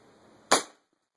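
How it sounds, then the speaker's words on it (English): A .25 caliber Marauder air rifle fires one JSB King pellet, a single sharp, loud crack that decays quickly, close by, with quiet background hiss before it and silence after it. "We're going to shoot this one in a single shot load fashion."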